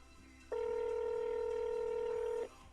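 A telephone dialing a number sounds one steady electronic two-pitch key tone, held for about two seconds, clear and isolated against a quiet background.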